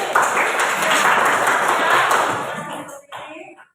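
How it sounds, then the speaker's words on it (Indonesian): Classmates applauding for Fitri in a classroom, a dense burst of clapping from a small group lasting about three seconds before trailing off into scattered claps, close and fairly loud. "kita tepuk tangan untuk Fitri"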